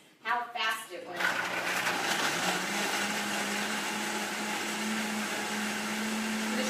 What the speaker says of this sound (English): I'm just going to blend it up super fast